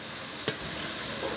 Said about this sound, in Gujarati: હવે નાખીશ બટાકા જે આપણે મેશ કરી દીધા છે.